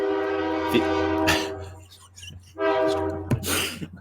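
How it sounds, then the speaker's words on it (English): A train passes in the background, a long harmonic horn blast sounding twice with a low continuous rumble beneath, fairly loud, while voices speak briefly over it. "Did you hear that train?"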